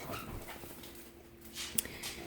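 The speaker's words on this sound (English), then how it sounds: "I have a doggy in the garbage because they smell the ham." A small dog whimpers softly while sniffing ham in a garbage bin indoors, with faint shuffling and a brief high squeak near the end.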